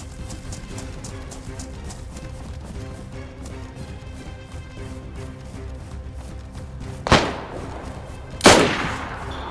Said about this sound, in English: Oh, good shot. Good shot.